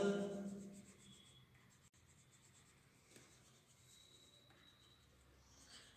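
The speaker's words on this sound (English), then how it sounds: "So here I am going a very light with my 9B pencil." A 9B pencil lightly shades across paper in soft, continuous scratchy strokes, close and faint, with a few words of talk at the very start.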